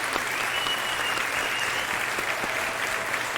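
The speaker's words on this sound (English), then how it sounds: "we gotta clap it up." Dense, steady applause from a crowd, a continuous wash of many hands clapping at even loudness throughout, with no pauses and no voices standing out.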